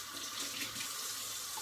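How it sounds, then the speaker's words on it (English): A tap runs into a sink for handwashing, making a soft, steady splashing hiss that goes on briefly without a break and sits fairly quiet and close. "let me wash my hands."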